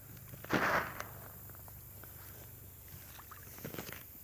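Catfish splash in a pond at feeding time. One sharp splash comes near the start and a smaller cluster follows near the end, over a quiet outdoor background.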